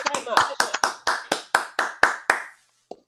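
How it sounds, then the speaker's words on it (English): A small audience claps sharply for a few seconds at an online poetry event, about a dozen distinct close claps that fade out, followed by one faint late clap. "Big round of applause for Finn Hall."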